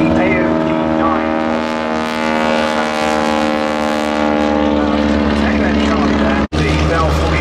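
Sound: AOP-9 propeller aircraft flying

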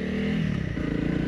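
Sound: motorcycle riding off-road through mud

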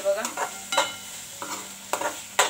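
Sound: tomato and masala frying on high flame

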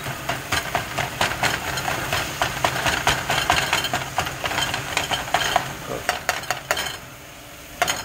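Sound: taco meat with seasoning sizzling in a pan

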